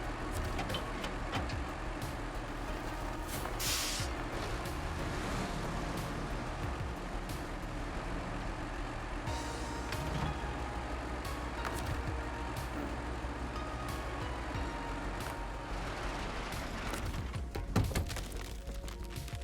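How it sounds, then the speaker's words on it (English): Truck engine in the video game SnowRunner on the Kola Peninsula, a steady low rumble as the truck backs up, with faint hiss and occasional clicks, no talking. "I might be able to back the other truck up without really screwing over that trailer"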